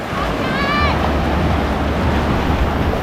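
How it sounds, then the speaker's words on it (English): Strong surf rolls in at a beach in La Union, Philippines, a continuous broad wash of breaking waves mixed with wind buffeting the microphone, with a brief voice near the start. "this beach has strong waves"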